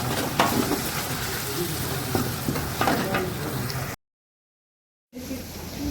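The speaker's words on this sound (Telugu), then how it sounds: "ఇప్పుడే అల్లం వెల్లుల్లి పేస్ట్ వేసినాను బాగా ఫ్రై చేసుకోవాలి" Ginger garlic paste frying in hot oil with cloves and bay leaf, a steady loud sizzle with scraping stirs, cutting out briefly near the end before resuming.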